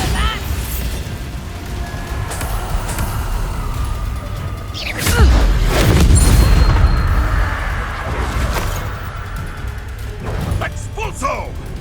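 A Bombarda blasting spell in the wizarding game Hogwarts Legacy, a single heavy booming explosion that swells midway through amid ongoing combat clatter and shouted voices, loud and close.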